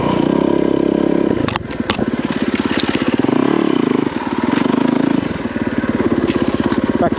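Trail motorcycle engine pulling steadily in second gear through a forest trail, a loud continuous drone close by with rhythmic throttle pulsing and a couple of sharp clatters from bumps along the way.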